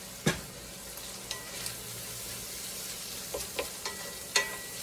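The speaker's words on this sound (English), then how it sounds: "We'll stir that up real good." Seasoned Chicken Alfredo ingredients are stirred as they fry in a pan, with a faint, steady sizzle punctuated by several sharp utensil knocks and scrapes against the pan.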